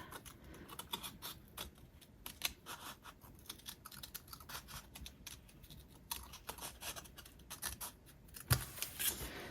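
Scissors snipping through paper cardstock for a handmade greeting card, a quick run of small crisp cuts and clicks at close range, steady and fairly quiet with no talking.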